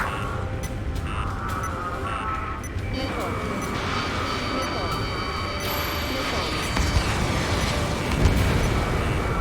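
An enemy tank blows up in the Ace Combat 7 video game, a sustained roaring blast layered with mechanical rumble and crackling bursts, loud and continuous over busy game sound.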